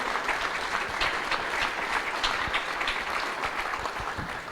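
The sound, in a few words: audience applause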